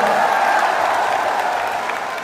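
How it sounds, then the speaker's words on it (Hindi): Dense crowd applause with scattered cheering at a large political rally in an indoor stadium, a steady loud wash of clapping sustained throughout without a break. "दोनों हाथ उठा के ताली बजा के स्वागत करें नगीना के लोगों का"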